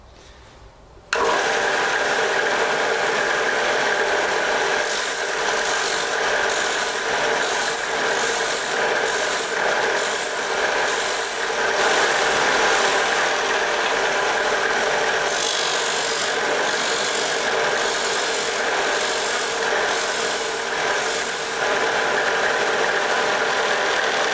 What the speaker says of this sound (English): set a 40-degree bevel. And then bevel those two edges in.